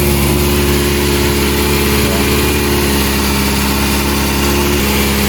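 A Kawasaki ZX4RR motorcycle engine idles at a cold start with a steady, loud, close mechanical drone and a fine rapid pulse that runs unbroken throughout, with no talking.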